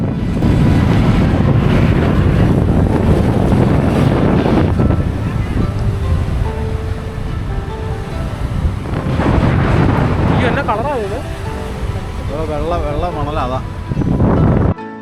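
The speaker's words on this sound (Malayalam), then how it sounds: "നല്ല ശക്തിയായിട്ട് കാറ്റടിക്കുന്നുണ്ട്" Strong wind buffets the microphone on Pamban bridge high over the sea, a loud steady roar with gusts throughout and faint voices underneath.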